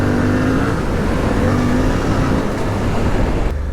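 Off-road vehicle engine laboring steadily as it climbs a sandy forest track in a national park, a loud continuous drone with a sustained tone, close up and without talk.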